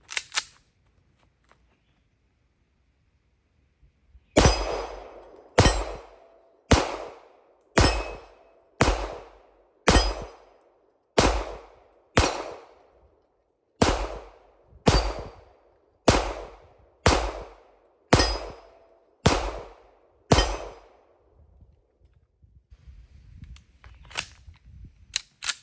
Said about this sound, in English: let's do a little bit of target shooting